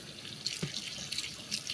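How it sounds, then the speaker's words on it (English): Hot water runs and splashes softly into a bowl of dry oha and uziza leaves set to soak, a faint, close trickle with small drips and no talking. "soaking it in hot water"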